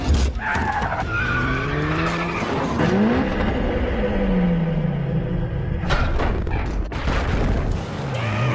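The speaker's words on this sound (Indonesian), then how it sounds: "meluncurkan mobilnya sendiri keluar dari gedung melalui sebuah trek yang sudah biasa ia pakai hingga membuat beberapa mobil yang mengejarnya berjatuhan" Cars racing and crashing in a Transformers 4 chase after a car is launched out of a building along a track, with loud skidding tires, roaring engines and heavy booming impacts throughout.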